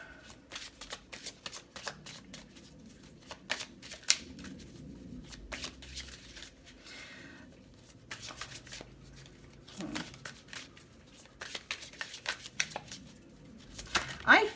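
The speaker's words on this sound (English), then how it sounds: "we're gonna get a few cards from this deck" A tarot deck is shuffled by hand with rapid riffling and flicking, and cards are drawn and slid out, all close up. A soft voice is heard now and then in the background.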